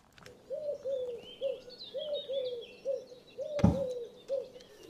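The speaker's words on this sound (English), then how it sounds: "Paul, play the Eurasian collared dove for us." A Eurasian collared dove's recorded call plays back as a steady series of soft, low cooing notes repeating in rhythm, with a brief loud thump near the end and faint birdsong behind.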